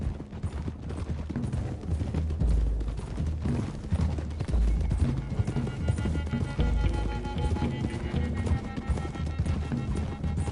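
Several horses ridden along a dirt road in the Red Dead Redemption 2 video game, steady overlapping hoof clip-clop with tack rattle and rumble throughout, close and continuous with no talk.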